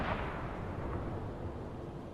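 Enemy ship gunfire in the submarine game Uboat: a dense, rumbling barrage of booming blasts that rolls on continuously at moderate loudness with no pauses.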